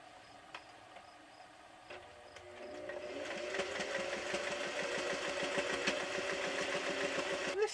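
Sewing machine stitching a quarter-inch seam on scrappy quilt fabric: quiet clicks at first, then the motor picks up into a steady, close mechanical whir with rapid needle ticking, running alone without talk.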